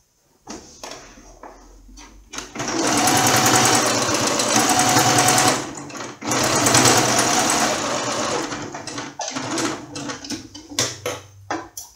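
A sewing machine stitches a baby toiletry bag in close, loud bursts of rapid mechanical clatter, with pauses and handling noises between runs.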